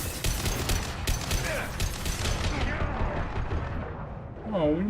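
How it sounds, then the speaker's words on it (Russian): Rapid machine gun fire and explosive combat noise from the video game Mass Effect 2 form a dense, loud, continuous barrage. Voices talk through it. "А, у нее пулемет."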